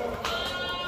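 A pinkish Malwa billy goat at a goat farm gives one short, close bleat that wavers slightly and holds for under a second.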